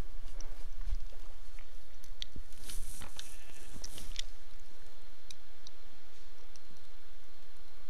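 Minecraft sheep bleating, a few short nasal calls in the game scene over a steady background hum with scattered clicks.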